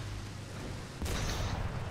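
A tank cannon fires in a tank video game: one sudden loud blast cuts through quiet background rumble, followed by a short ringing, noisy tail.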